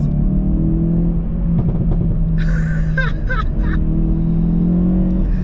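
A 2022 Hyundai i30 N hatchback engine revs up in the cabin, a steady droning rumble with a rising whine partway through, loud and close.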